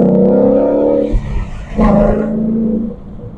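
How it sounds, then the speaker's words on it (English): Ford Mustang GT with active exhaust in sport mode blipping through downshifts, a loud close rasping engine roar that drops off, then surges again in a second deep burble. "The downshifts in sports sound really good."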